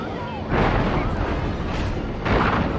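Explosions in the game Destroy All Humans remake, heard as two loud, broad rumbling blasts that each roll on for over a second, the second arriving near the end.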